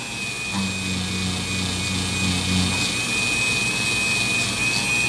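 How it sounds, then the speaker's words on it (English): A Dremel rotary tool runs steadily with a polishing wheel loaded with Flitz compound, working on parts of a 1911 pistol; a continuous close, high-pitched whine holds for the whole stretch, with no speech. "My wheels are already loaded with Flitz polishing compound"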